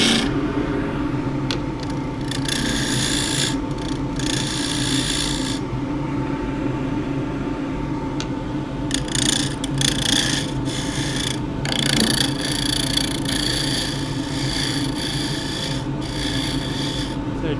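A lathe tool smooths the top face of a splintery she oak jewel box blank. The sound is a continuous close scraping rasp with a rumbling low hum, broken by short bursts of brighter, higher chatter that recur through the whole stretch.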